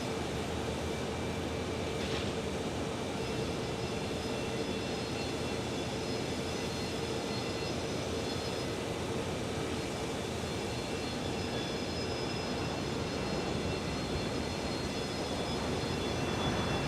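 A steady, loud broadband jet roar from an airliner taking off at Phoenix Sky Harbor Airport holds even across the whole stretch, with a faint higher whine on top and no talking.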